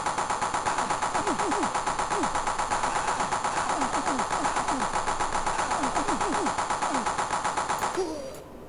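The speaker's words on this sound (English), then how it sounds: "fire button one is your machine gun" Rapid, continuous machine gun fire from the Amiga shooter Line of Fire, a dense rattling burst running loud and steady for about eight seconds over game music before cutting off abruptly.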